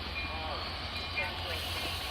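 A Long Island Rail Road eastbound train bound for Montauk, running late as it approaches Westhampton station, gives a steady low rumble and rolling noise under a constant wash of sound. No talking is heard.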